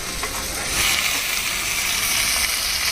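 Steady, loud sizzling of food frying in a home kitchen pan, a continuous crackling hiss that swells slightly partway through, with no talking.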